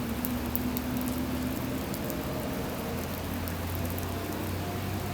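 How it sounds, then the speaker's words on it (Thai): Heavy, steady rain pours nonstop during storm Wipha in Thailand, a dense, even hiss of drops hitting surfaces with a constant low rumble beneath and no talk. "คุณพ่อเขาบอกว่าพายุเข้าเนาะพายุฝนจ้ะวิภา"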